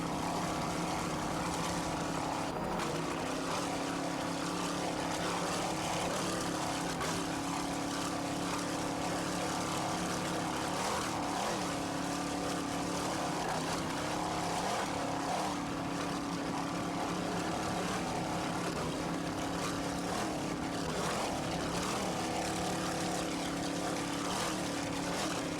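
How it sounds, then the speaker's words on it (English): Racing powerboat engines roaring at a 1994 APBA race at South Padre Island, a steady loud droning whine that rises and falls slightly as the boats run, heard at a distance without talk over it. "Nice throttling by Bob Christie."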